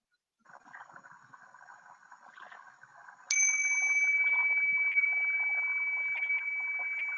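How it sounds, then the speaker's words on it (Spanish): A meditation bell strikes once with a clear ring, and its pure tone holds and fades slowly over several seconds. Before the strike there is faint, low background noise. "Va a sonar una campana y después de oírla podemos abrir lentamente nuestros ojos."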